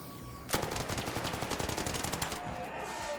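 A turret in the video game Arc Raiders fires a sustained burst of rapid, evenly spaced shots that begins abruptly and lasts about two seconds, loud and close.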